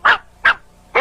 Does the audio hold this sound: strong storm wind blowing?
no